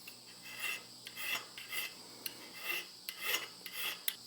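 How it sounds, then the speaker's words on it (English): A small three-faced fine file rasps across the hard steel end of an axle, about ten short, quiet strokes in an even back-and-forth rhythm, close up with no talk. "I like to use a little 3-faced fine file just like this."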